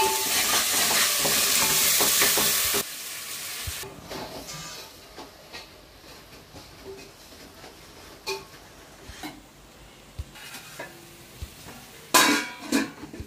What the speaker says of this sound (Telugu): మసాలా అయితే ఒక 2 నిమిషాలు బాగా వేగిద్ది కదండి